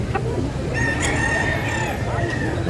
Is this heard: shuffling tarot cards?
no